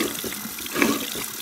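A sink tap runs steadily, water splashing continuously into a basin at close range for a short stretch, with no voices.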